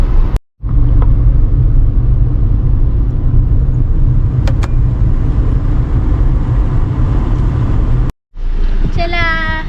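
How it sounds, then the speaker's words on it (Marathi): A car moves through jammed road traffic on dug-up streets in Kharghar, with a steady low engine and road rumble that runs nearly throughout and a brief dropout near the start and end, while a person talks over it. "खारघरचे इतके रस्ते खोदल्यात ना की ट्रॅफिकच जाम होते"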